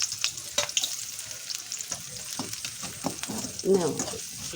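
Steady oily sizzling of onions frying in a wok, with scattered clicks and scrapes of stirring close by, and faint voices in the background.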